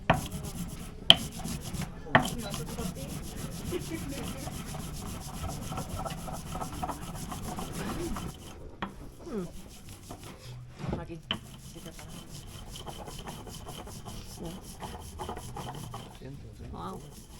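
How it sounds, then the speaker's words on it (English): Rhythmic stone-on-stone grinding and rubbing as cacao is ground on an ancient hand grinder, a steady scraping back-and-forth with a few sharp knocks, close by and fairly quiet. "This is the ancient blender."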